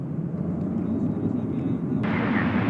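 An American Eagle regional airliner lands at DFW airport at night, its engines a steady, broad roar that swells slightly louder partway through.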